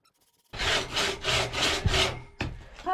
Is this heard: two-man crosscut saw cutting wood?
yes